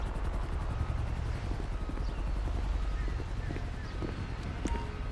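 A police helicopter hovers overhead in GTA 5, its rapid rotor chop thudding steadily in the background beneath occasional voices and radio chatter.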